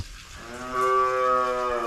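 A cow moos loud and close in a muddy pen on a Nebraska cattle ranch, one long drawn-out call that swells and holds to the end.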